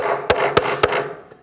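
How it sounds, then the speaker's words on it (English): A roofing hammer strikes a seafood shell three times in a quick, even rhythm, each a sharp close crack, with a fainter fourth tap trailing off. "It's a little easier with the roofing hammer."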